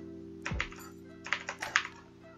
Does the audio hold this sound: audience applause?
no